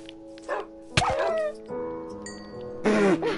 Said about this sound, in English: Hey, oh, that's your dog!